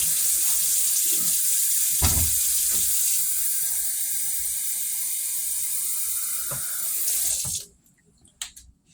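Lukewarm water pours into yeast for a bread dough, a steady close splashing hiss that stops abruptly near the end, leaving a few faint knocks. No voices.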